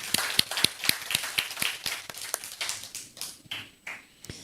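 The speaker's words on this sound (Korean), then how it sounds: "박수 한번 쳐주세요." Light clapping from a small church congregation, quick and uneven at first, then thinning out into scattered claps.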